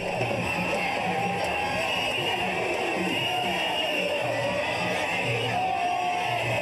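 A huge crowd at a public political gathering with an honor guard lining the route, a continuous dense roar of voices, whoops and shouts at even loudness throughout, with a buzzing horn-like drone layered over it.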